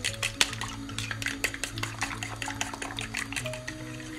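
Three eggs with salt are beaten in a bowl with a utensil, giving a quick, irregular run of light clinks and taps against the bowl over a faint low kitchen hum.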